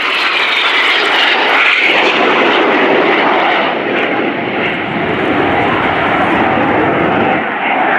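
RAF Red Arrows jets performing at an air show display, a loud continuous roaring rush of engine noise that swells and sustains as the aircraft pass overhead, with no voices.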